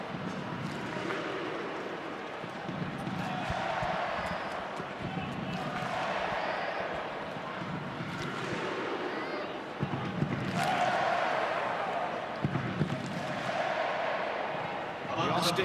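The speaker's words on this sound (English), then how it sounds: "The Austin crowd has done its part tonight." Stadium crowd at a USA vs Panama soccer friendly in Austin, a continuous swelling roar of many voices rising and falling over the whole stretch, with a commentator talking over it.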